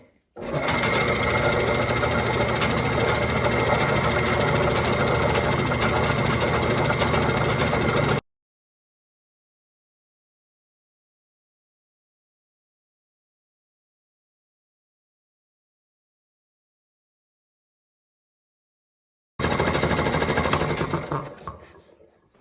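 A 1962 Comet hi-volume air compressor runs with a loud, steady mechanical chugging, stops abruptly into silence for about eleven seconds, then starts again near the end.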